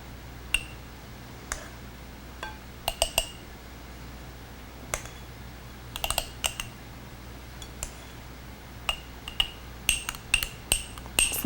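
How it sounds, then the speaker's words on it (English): Cheesecake is spooned into a glass mason jar with Rada cutlery, giving sharp metallic clinks and taps against the glass, sparse at first and then in quicker clusters toward the end, close up with no talking. "let's start spooning in some of our amazing cheesecake"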